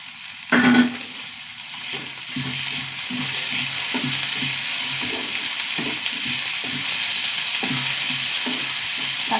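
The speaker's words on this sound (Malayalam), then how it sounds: "തക്കാളിന്ന് വാടി വരട്ടെ." Tomatoes and onions sauté in a hot pan with a steady, loud sizzle, broken by a few scraping stirs and soft rhythmic taps of a utensil.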